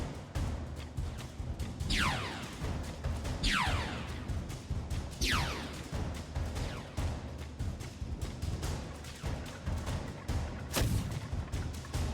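Ship-battle missiles fire and explode in the video game Clone Drone in the Danger Zone, a series of sharp launch whooshes and heavy booms repeating every second or two over a rumbling battle din.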